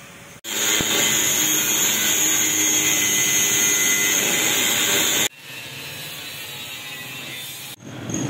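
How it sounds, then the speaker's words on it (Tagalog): Power tool cutting through the stock exhaust pipe of a Yamaha NMAX version 2 to remove the catalytic converter, a loud, steady high-pitched whine and grind that runs for about five seconds, then continues at a lower level. "Dito kinakat na niya yung tinatanggal natin yung catalytic para palitan ng mas malaking tubo"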